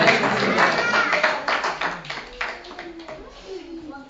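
A church congregation at a revival service claps in acclamation, a dense run of overlapping handclaps with voices and cries mixed in, fairly loud and close, thinning toward the end.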